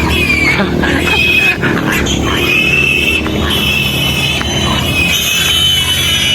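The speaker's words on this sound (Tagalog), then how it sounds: "gisipit ni Johnson ang baboy" A newly caught pig squeals loudly and continuously at close range, its shrill, wavering cries filling the whole stretch with hardly a break.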